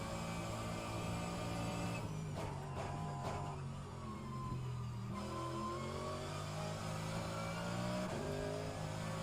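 Mercedes-AMG GT3 race car engine in the rFactor 2 racing game at Sebring, a steady loud drone that blips and revs during downshifts, with pitch rising and falling between gear changes.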